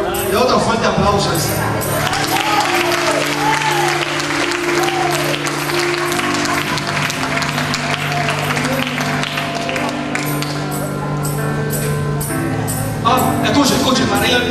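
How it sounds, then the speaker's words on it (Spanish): A live audience breaks into loud, dense applause that holds steady for about fourteen seconds, with crowd voices mixed into the clapping. "Y otro fuerte aplauso."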